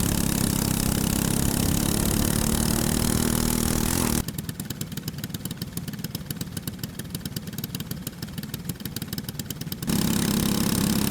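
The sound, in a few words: race engines rolling off for a heat race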